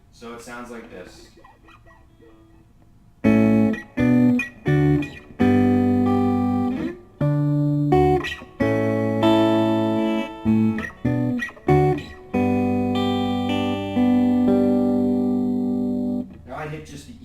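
Electric guitar plays a chord riff in short bursts, chords ringing then stopping, after a few quiet seconds with faint picking at the start.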